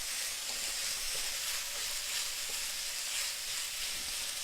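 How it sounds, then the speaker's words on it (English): Ginger and garlic stir-frying in hot oil for Kung Pao chicken, a steady close sizzle and hiss throughout with no talking. "quick stir."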